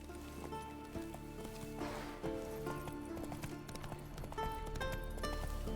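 Roach, Geralt's horse in The Witcher 3, trots up with steady rhythmic hoof clip-clops over a game music bed, fairly close and clear throughout.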